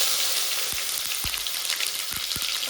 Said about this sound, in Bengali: টমেটোটা একটু নেড়ে চেড়ে লাল লাল করে ভেজে নেব।